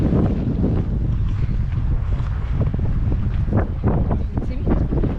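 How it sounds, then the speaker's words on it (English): Gusty wind buffets the microphone outdoors in an open field at a company picnic, a steady low roar with rumbling surges throughout. "It's still windy."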